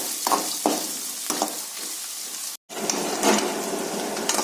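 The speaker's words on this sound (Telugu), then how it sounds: "బాగా కలుపుకొని ఉల్లిపాయల్ని ఫ్రై చేసుకోవాలి" Thinly sliced onions fry in a pan for chicken dum biryani. A continuous sizzle is broken by scraping stirs and a brief cut near the middle, and no one speaks.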